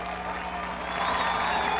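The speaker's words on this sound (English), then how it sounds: "they are not liking Sammy Swindell at this point. But they are cheering for Adam Wilt" Crowd at a sprint car race at Williams Grove cheering and applauding for a driver, a faint, continuous wash of distant clapping and voices that swells slightly toward the end.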